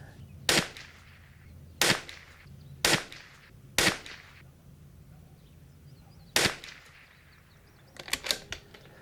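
Sharp, close shots from a Bergara B14R .22LR rifle, fired one at a time at irregular intervals of about a second, six single cracks followed by a quick cluster of shots at the end, with no talking.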